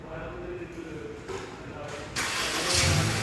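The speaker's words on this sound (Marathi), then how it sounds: "गाडी स्टार्ट झाली" A 2025 Honda Amaze VX CVT engine cranks and catches about two seconds in, jumping from quiet cabin hiss to a steady, close idle hum.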